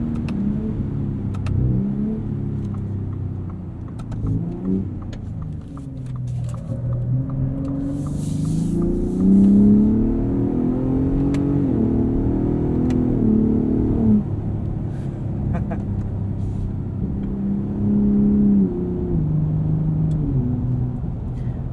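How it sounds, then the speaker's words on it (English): Engine of a 2021 Ford F-150 Raptor with the 37 Performance Package and a 10-speed transmission, heard from inside in Baja mode: repeated revving swells and quick throttle blips on downshifts, loud and close, rising and falling over a steady rumble, with no talking. "This 10-speed gives us really nice blips on downshifts."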